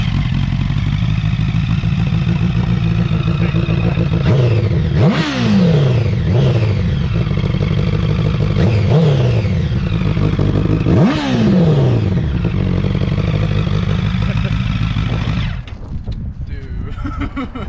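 A Honda CBR 1000 motorcycle engine idles loudly up close, with several sharp throttle blips rising and falling around the middle of the run, then the engine cuts off near the end.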